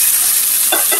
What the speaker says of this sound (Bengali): এখন ভালো করে আমি মশলাতে মুরগি এগুলো সবগুলি ভালো করে কষিয়ে দিব।